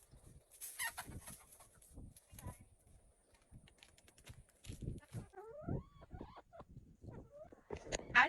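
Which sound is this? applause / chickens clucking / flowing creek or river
chickens clucking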